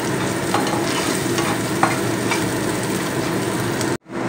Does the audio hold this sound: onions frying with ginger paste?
yes